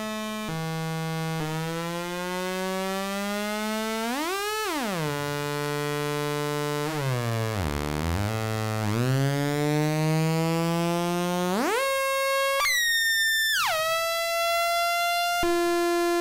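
An Erica Synths modular synthesizer with one oscillator output split into its own exponential FM input sings loud sweeping, gliding tones, with pitch swoops and jumps like a siren, heard alone.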